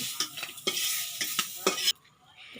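Shrimp frying in oil in a pan for a village-style shrimp and spinach dish, a bright steady sizzle broken by several sharp stirring scrapes, close up, then cut off abruptly into quiet.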